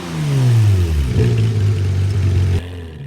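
Porsche 911R flat-six revving up loudly close by, then settling into a steady, throaty mid-pitched drone before cutting off near the end.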